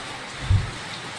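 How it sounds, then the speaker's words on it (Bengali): Rain keeps falling during Cyclone Remal, a soft, even hiss with one brief low thump in the middle. "সকালবেলা একটু এখন ঝড়টা কম আছে কিন্তু বৃষ্টি কিন্তু হয়েই যাচ্ছে"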